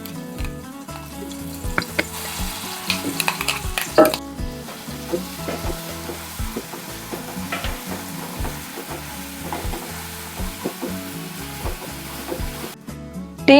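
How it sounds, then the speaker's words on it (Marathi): Spice paste frying in hot oil with coriander: a steady, loud sizzle with stirring scrapes throughout and a few sharper clinks of the spoon against the pan. "आता यामध्ये वाटण टाकून भाजून घेऊया."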